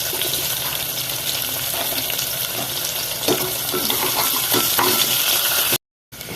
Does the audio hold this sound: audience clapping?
no